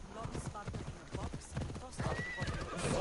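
Rapid hoofbeats gallop along while a horse whinnies in the video game Assassin's Creed Odyssey, with a voice speaking over the busy, loud action.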